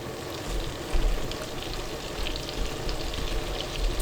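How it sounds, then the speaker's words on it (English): Butter bubbles and sizzles in a pot at the start of broccoli cheddar soup, a steady close crackle of fine pops with no talking. "the butter is starting to bubble"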